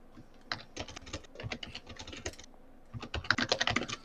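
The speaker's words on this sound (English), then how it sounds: "Hopefully my keyboard isn't too loud. It's okay. I have a mechanical keyboard too" Rapid typing on a mechanical keyboard, dense bursts of sharp, close clicky keystrokes with a short lull in the middle, no talking.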